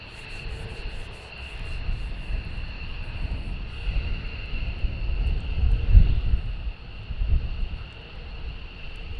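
Military jets taxi at RAF Lakenheath, giving a steady, distant engine roar and whine with a low rumble that swells toward the middle and then eases.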